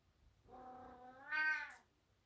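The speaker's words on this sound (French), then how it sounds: "Ça c'est le chat." A cat gives a single drawn-out meow that rises in pitch toward the end, close and fairly clear against a quiet background, with no talking.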